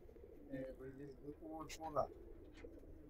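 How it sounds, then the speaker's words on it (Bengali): A black-necked cumin-necked pigeon coos softly at close range, a few low repeated coos over a quiet background, with some chirpy bird calls mixed in. "খুব সুন্দর কবুতর কালো গলা জিরা গলা কবুতর।"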